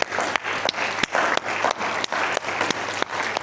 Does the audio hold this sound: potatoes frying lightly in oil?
no